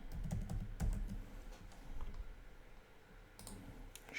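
Quiet typing on a computer keyboard while writing JavaScript code, with bursts of soft key clicks, a brief pause, then more tapping, close and alone.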